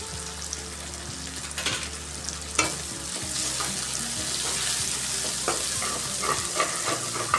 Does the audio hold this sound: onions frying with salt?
yes